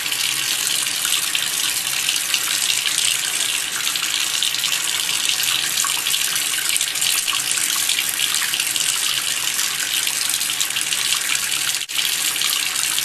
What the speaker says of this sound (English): And then I'll get the sponge wet again and just kind of work that soap into the sponge.